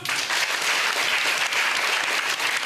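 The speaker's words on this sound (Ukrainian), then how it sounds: "Ваші оплески, друзі!" A theatre audience breaks into loud, dense applause, a continuous wash of clapping with no voices over it.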